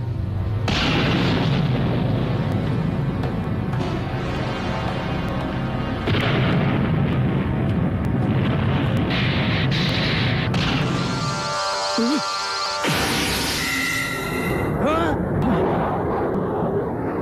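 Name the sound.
ray gun blasts in an anime fight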